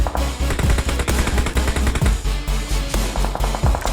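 Rapid automatic gunfire from the PUBG Mobile battle royale game, loud and continuous with repeated bursts throughout.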